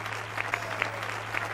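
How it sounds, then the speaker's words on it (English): Applause and cheering from a studio audience in the Family Feud 2012 video game, a steady clapping wash with a few sharper claps, heard fairly faint beneath a low background hum. "Everyone's cheering."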